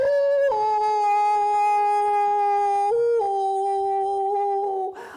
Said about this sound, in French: hurlement de loup.